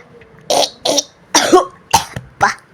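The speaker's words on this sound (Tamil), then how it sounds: "இருமல் வர வருது." Five separate harsh coughs burst out in a short, uneven series, each loud and close with brief pauses between, from a person playing a ghost in a comic sketch.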